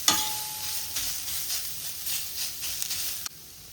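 Radish with turmeric cooking over a high flame, sizzling loud and steady with stirring scrapes throughout before cutting off abruptly near the end.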